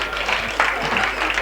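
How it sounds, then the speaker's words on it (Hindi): Audience applause at a Hindi comic poetry gathering in Gunnaur, a steady wash of clapping from a crowd that holds at an even level for the short stretch, with a brief voice murmuring over it. "एक बार पुनः तालियां उनके लिए बजाएं।"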